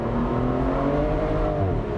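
A 2014 Aston Martin Vanquish Volante engine revving, a loud, sustained tonal roar rising slightly in pitch, heard close with no talk over it.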